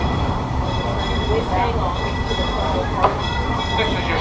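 Disneyland Railroad train rolling between stations at the park, a steady loud rumble of wheels and cars with a brief clank near the end, under a continuous background of motion.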